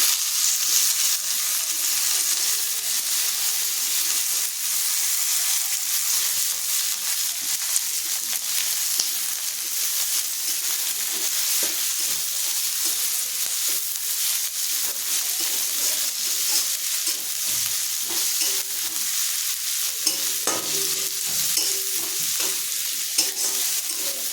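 Onions and green chillies fry in a pan under steady stirring, a continuous bright sizzle with scraping spatula strokes running close and loud throughout, with no voices.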